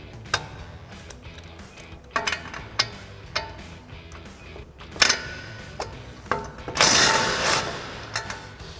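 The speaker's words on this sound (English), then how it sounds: "Next, we're going to loosen up our upper ball joint nut with our 21 mil socket and swivel" A ratchet with a 21 mm socket, swivel adapter and extension loosening the upper ball joint nut on a RAM 1500 front suspension, irregular close clicking strokes followed by a louder rapid ratcheting burst.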